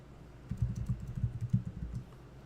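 A burst of rapid keystrokes on a computer keyboard, close and fairly quiet, lasting about a second and a half in an otherwise quiet room.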